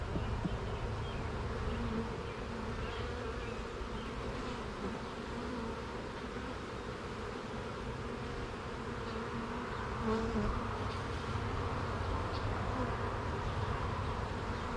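A swarm of bees, housed in a hive in a shop, hums in a steady, dense drone throughout, fairly soft and even with small swells, no voices present.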